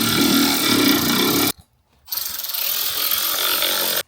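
Ratchet wrench tightening a coupler clamp on a Honda Civic Type R FL5 intercooler pipe, a rapid continuous clicking burst, a brief pause, then another steady run of clicks, close and loud.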